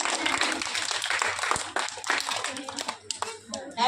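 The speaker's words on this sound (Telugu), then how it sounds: "ఇప్పుడు అందరు క్లాప్స్ కొట్టండి." Children clap together at an Indian school assembly on Independence Day, a dense, fairly loud patter of many small hands that holds steady throughout, with young voices calling out beneath it.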